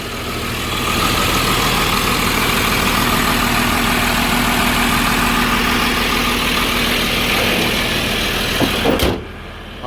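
A swapped Cummins turbo diesel in a Chevy C30 squarebody truck runs with a loud, steady, close-up rumble and clatter that holds even for most of the stretch before cutting off sharply near the end.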